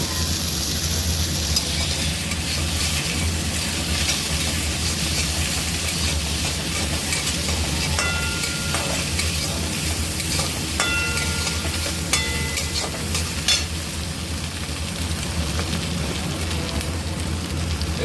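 Ginger paste fries in oil in a pan for a mourala fish dish, a dense, continuous hiss like steady rain lasting throughout, with faint scraping as it is stirred.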